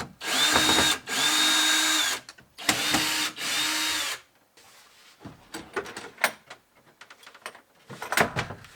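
Power drill unbolting a van bed platform: four loud, close bursts of whirring drill, each a second or so long with pitch sweeps, followed by scattered clanks and knocks of metal parts being handled.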